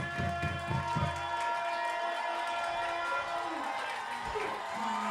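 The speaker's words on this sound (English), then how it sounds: "And the crowd is back into it." A high school football crowd at Wakefield vs. Yorktown roars after a touchdown, a dense, loud wash of cheering with a few sharper bursts near the start, then a steady rumble.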